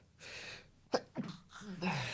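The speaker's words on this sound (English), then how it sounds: "And now I'll sneeze." A quiet room with a soft breath intake, then a sudden close sneeze followed by a couple of breathy gasps and exhales.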